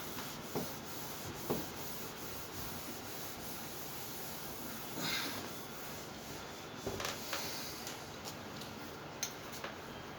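Writing is rubbed off a classroom board in a soft, continuous, faint scrubbing with occasional small taps and ticks, and no one speaks.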